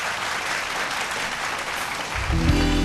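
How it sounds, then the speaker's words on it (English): Applause from a televised vocal competition audience welcoming a singer, dense and steady, with music or low tones entering near the end. "round of applause please for Ishmael Boge."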